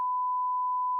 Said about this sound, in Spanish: todos estos pitidos